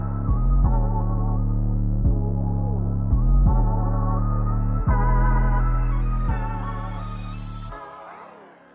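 A porting tool grinds out a PRB with a loud, steady motor drone that dips and throbs as it bites into the metal, then winds down and stops near the end.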